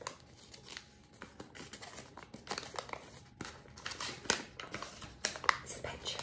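Paper pulled out of a plastic egg and unfolded, a run of soft crinkles and rustles close by, mixed with small clicks and handling noise, under occasional talk.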